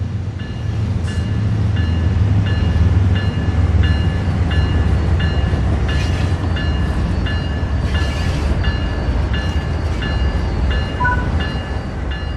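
A train in the video game Train Sim World 3 rumbles steadily with a low, continuous engine drone and faint rhythmic clanking, loud and close throughout, with no voices.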